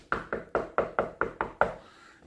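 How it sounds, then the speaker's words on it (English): Knocking-like noise outside during a night storm, eight sharp evenly spaced raps in quick succession, close and loud, followed by a faint fading tail. "Kind of like somebody was trying to knock at the door, but it wasn't an actual knock at the door"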